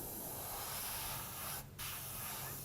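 Spray paint hisses close up onto a Vans shoe, a steady broad spray that pauses briefly near the end before resuming.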